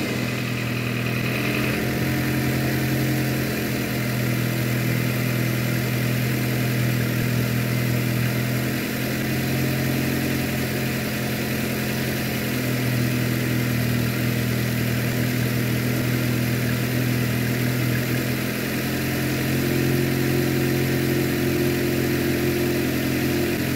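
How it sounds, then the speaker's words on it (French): A motorcycle engine runs at a steady idle after an oil change, a continuous even rumble with small pitch shifts and no voices. "on va faire tourner un tout petit peu le moteur pour faire rentrer de l'huile dans le filtre à huile"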